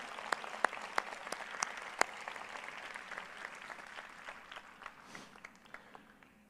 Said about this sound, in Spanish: Les pediría por favor un aplauso para los organizadores de la cumbre